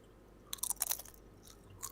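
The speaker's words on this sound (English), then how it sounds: "There's still a crunch." Crunchy snack bitten and chewed close to the mic, a short cluster of sharp crisp crunches followed by a couple of softer chews.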